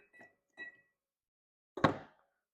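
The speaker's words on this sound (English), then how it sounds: "And then we are just going to add our ice. Got ourselves 1 big ice cube here." Two light glassy clinks are followed by a louder thunk as one big ice cube drops into a cocktail glass of applejack whiskey, all close and isolated in a quiet room.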